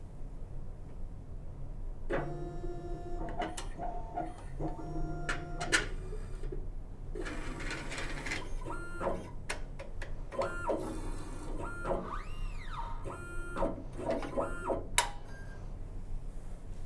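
A BioTek plate washer fitted with a BioStack runs a verify cycle, giving steady motor whirs, stepped mechanical tones and clicks in a quiet room with no talking.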